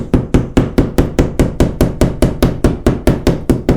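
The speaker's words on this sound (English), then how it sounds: "I kind of like to take a screwdriver and mash everything down" A screwdriver repeatedly mashing down torn drywall edges around a hole left by a pulled-out towel bar, a steady series of sharp, loud, close knocks, about four per second, with no talk.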